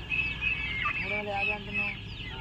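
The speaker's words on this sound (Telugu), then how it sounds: "ఈ షో కోళ్ళు అంటండి." Chickens cluck and call in a busy, noisy setting, with overlapping bird calls and a murmur of background voices throughout.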